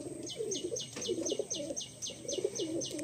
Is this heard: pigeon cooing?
yes